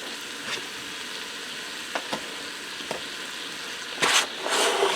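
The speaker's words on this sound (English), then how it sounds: "Now I'm going to allow this to saute for a few minutes so the onions start to turn translucent and soften up" Ground beef and diced onion sautéing in a pressure cooker pot, a close, steady sizzle with a few soft stirring scrapes and a brief louder crackle near the end.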